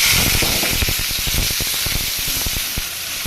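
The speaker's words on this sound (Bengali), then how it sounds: "আর এইদিকে তেলে 5 ফোড়ন দিয়েছি। এবার লাল শাকটা দিয়ে দিচ্ছি।" Boiled red amaranth greens dropped into hot oil tempered with five-spice, giving a loud, steady sizzling hiss that fills the whole moment up close.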